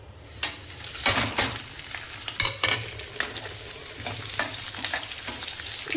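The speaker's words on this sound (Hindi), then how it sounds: "तो इसमें मैं डाल देती हूँ ये मसाले।" Spices crackle and sizzle in hot cooking oil. Sharp pops and spoon scrapes from stirring rise over a continuous close frying hiss.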